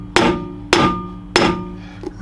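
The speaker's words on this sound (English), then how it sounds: "I'm using a rubber mallet, by the way, in case you didn't realise." A rubber mallet taps an end cap onto the handle of a large cleaver kit: three solid, ringing knocks about half a second apart, loud and close, then a softer tap.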